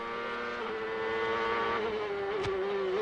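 Onboard an IndyCar race car at Vancouver in 1998, its 900-plus horsepower engine screams with a high, steady note that climbs as it accelerates out of a corner, loud and close, with brief tire noise.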